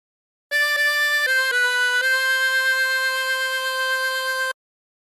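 Harmonica playing a phrase of Sloop John B, a few quick notes stepping into one long held reedy tone, steady and clear with nothing else heard.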